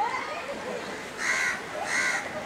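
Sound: birds cawing at Banganga pond

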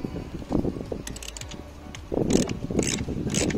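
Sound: ratchet loosening 8 mm screws on Citroen C4 1.6 HDI oil decanter

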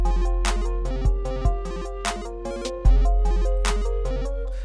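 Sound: FL Studio synth melody with octave-jump modulation

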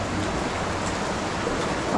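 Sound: water trickling down from above

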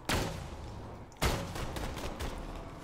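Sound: rifle gunfire in the video game Borderlands 2

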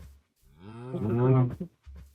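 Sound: cow mooing in Minecraft video game

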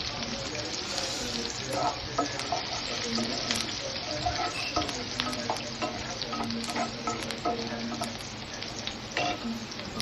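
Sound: frying finely chopped chili and garlic in a pan

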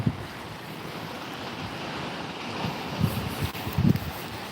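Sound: sea waves at Hamsilos fjord, Sinop

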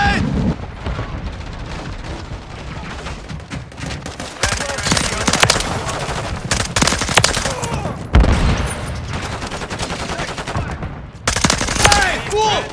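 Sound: gunfire and grenade in Call of Duty Modern Warfare 3 video game

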